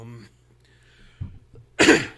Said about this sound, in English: this is like killing me over here with this cough